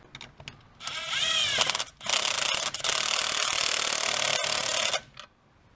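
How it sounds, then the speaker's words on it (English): Hose coupler clamps being tightened on a Mazdaspeed engine give close, loud bursts of ratchet clicking with brief pauses between, alongside some metallic rubbing and scraping and no talking. "all we got to do now is tighten up all the clamps here."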